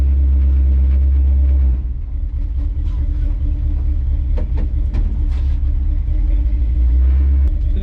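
Deep, steady rumble of a 1983 Chevrolet C10 pickup with a small-block 350 V8 pulling away, loud and close, the low engine drone holding throughout with a slight dip early on.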